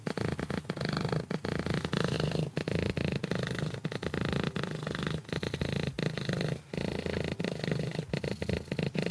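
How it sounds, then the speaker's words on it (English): A cat named Bretonnia purrs continuously up close, a steady rhythmic rumbling with regular breath-paced pulses and no talking. "there are rumors that she doesn't stop purring"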